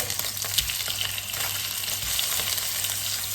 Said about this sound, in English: I'm going to be frying that lovely and getting that ready